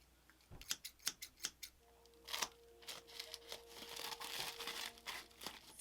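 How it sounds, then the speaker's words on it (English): Scissors snip open a white cardboard box of nail polish with several sharp, close cuts, followed by rustling and crinkling of packaging, quiet and without talk. "Go ahead and start cutting this open"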